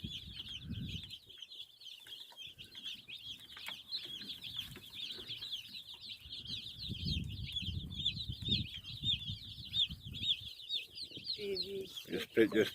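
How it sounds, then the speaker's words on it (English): A dense, continuous chorus of high-pitched peeping from 100 young Cornish cross meat chicks, steady throughout, with low rumbling handling noise and shuffling underneath. "we have 100 Cornish cross meat birds in here"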